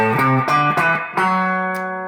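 A guitar plays a short run of individual notes from the minor sixth pentatonic scale, four or five picked in succession, the last one ringing out and fading.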